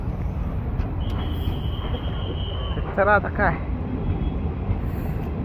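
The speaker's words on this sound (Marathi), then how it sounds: "पाठीमागे ट्रेन चालली बघा" Train passing slowly behind a man standing outdoors, a low continuous rumble with a long high squeal, while someone speaks briefly over it.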